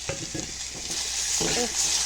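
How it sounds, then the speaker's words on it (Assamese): Pointed gourd sizzles in hot oil with a steady hiss, broken by a few clacks of a spatula scraping and turning pieces in the pan. "এতিয়া মাছ ভজা তেলতে মই ভাজিম পটল দুটাহে লৈছোঁ"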